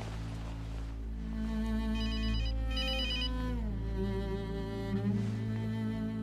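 A telephone rings steadily and loudly in an indoor scene, its electronic ringtone repeating in bursts over a constant low background hum, with no voices.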